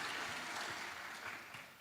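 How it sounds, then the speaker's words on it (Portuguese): Applause from a theater audience at a Brazilian comedy show, a steady wash of many hands clapping together at moderate, slightly distant level, fading a little toward the end. "Uma salva de palmas para vocês."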